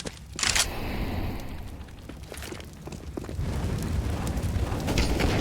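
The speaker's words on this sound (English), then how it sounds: "Oh, this grenade." A grenade detonates in CS:GO on the Inferno map during a pro match, a loud booming blast followed by sustained rumbling crackle and a second surge of noise, with no talk over it.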